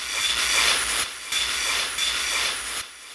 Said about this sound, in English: The rails sound of the riding Metro.